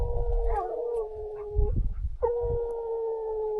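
Dogs howl out in a desert landscape, long sustained wavering wails that break off midway and resume, with rough lower panting and shuffling underneath, fairly close and loud, no speech.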